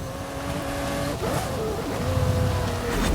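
Hoonigan Group A race car engine droning in a video game, a sustained mid-level motor tone that dips and shifts pitch as it changes gear, heard alone without talk.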